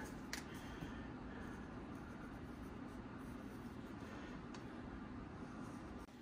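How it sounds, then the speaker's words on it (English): A space heater runs in a cold workshop, giving a faint, steady fan-like rumble and hiss in the background with a couple of soft clicks. "If you hear any noise in the background, it's just the heater."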